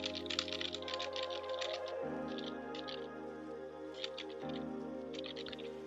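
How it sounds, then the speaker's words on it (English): A computer keyboard clicks in quick, steady patters of typing, picked up by a headset microphone held close. The keystrokes sound fairly faint over a low hum, and no one speaks. "see how the microphone picks up the clicking when you're this close to the keyboard"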